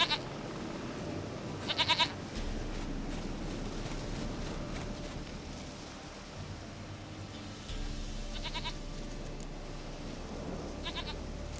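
A goat bleats in The Witcher 3, in short loud calls around two seconds in, again near eight and a half seconds and once more near the end, over a steady low ambient rumble.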